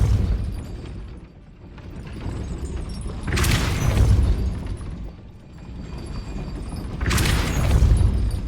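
Spell blasts in Hogwarts Legacy, heard as two deep booming swells a few seconds apart over a low rumbling game background, each rising and then fading.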